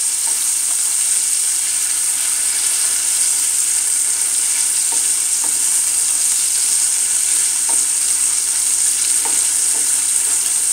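Ham sizzles loudly in a hot pan, a dense constant frying hiss punctuated by a few light scraping or stirring ticks, no voices.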